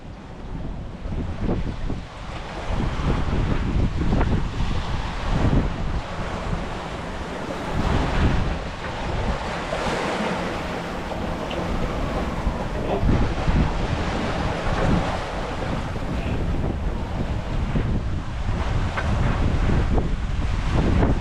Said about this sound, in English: with breaking waves smashing into the side